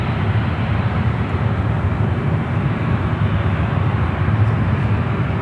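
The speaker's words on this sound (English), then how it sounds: "1, 2, 3, 4 United flights heading out." United Airlines jets take off at San Francisco International Airport, a loud, steady, broadband roar of jet engines heard from a distance without pause.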